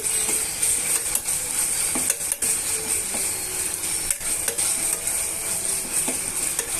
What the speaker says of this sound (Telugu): ఇప్పుడు ఉల్లిపాయ ముక్కలు పచ్చిమిరపకాయ ముక్కలు బాగా వేగిపోయాయండి